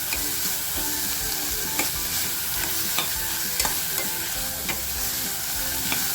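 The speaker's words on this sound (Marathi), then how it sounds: "आता आपल्याला ही मटकी आहे ना याच्यात थोडीशी फ्राय करून घ्यायची आहे" Moth beans (matki) fry in a spiced oil tempering for misal, giving a loud, steady sizzle. A spatula scrapes and clicks against the pan at a regular rhythm, and no one talks.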